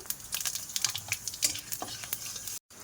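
Bay leaf and panch phoron spices fry in hot oil, a close crackling sizzle with sharp pops and stirring scrapes, cutting out briefly near the end.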